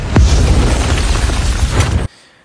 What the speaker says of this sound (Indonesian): rumahnya pun meledak